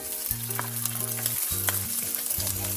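Ginger and garlic fry in a pan with a steady close sizzle, accompanied by a low droning hum and occasional light crackles.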